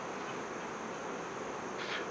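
Bees fly around a modern wooden beehive with a reduced entrance, a steady dense buzzing of many insects nearby, one bee briefly passing louder close by near the end, with no talk.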